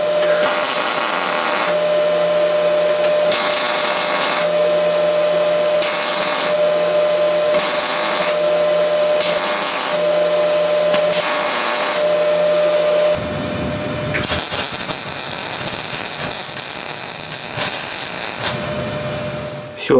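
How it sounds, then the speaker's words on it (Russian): Welding a steel profile tube shelf frame, with repeated bursts of steady buzzing arc noise separated by short pauses and a constant tone, then a rougher, louder grinding-like stretch near the end. "Все, провариваем вторую половинку."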